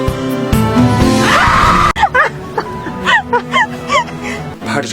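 A woman screams sharply in a Korean drama scene, a loud, strained cry that breaks off suddenly, followed by halting speech-like vocal bursts.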